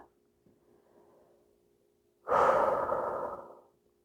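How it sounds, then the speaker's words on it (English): Deep breath during a yoga stretching flow: one long, loud exhale of about a second and a half rushes out close to the mic after quieter, softer breathing, with no talk over it. "And we're breathing."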